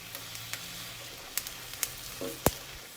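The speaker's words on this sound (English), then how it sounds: "I'm going to add my 2 garlic cloves and we are going to char them." Tomatillos and garlic cloves char in a hot pan, giving a faint steady sizzle with a few sharp pops and crackles scattered throughout.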